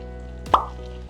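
Water poured into a papeda sago starch mixture makes a single close, resonant plop over a steady low hum, with a faint splash just after.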